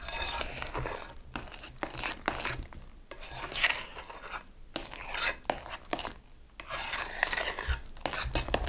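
A dough scraper rubs and scrapes through a cannoli dough mixture in a home kitchen, making steady, close rasping strokes that run almost continuously with brief pauses.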